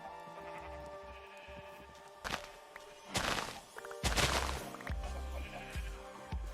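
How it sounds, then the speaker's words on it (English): Several short bleats from Minecraft sheep come in bursts over a soft game background, with a few brief thuds mixed in and no voices. "Some more sheep I could shear."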